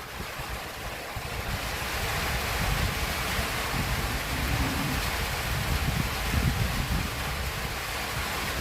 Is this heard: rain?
yes